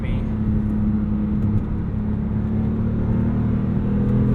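A 2008 Porsche 911 Carrera engine holds a steady, loud drone from inside the car, rising slightly in pitch with revs, while a voice speaks over it.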